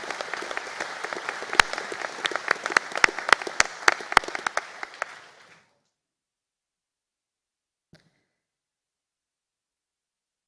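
Graduation conferring ceremony audience clapping for a graduate and supervisor, dense applause with sharp individual claps for about five seconds that then stops abruptly, leaving near silence and one faint late clap.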